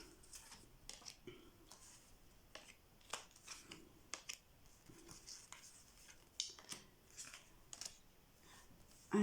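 Cards are drawn and shuffled from a tarot-style deck in a series of soft, papery flicks and snaps, close and fairly quiet, with no talking.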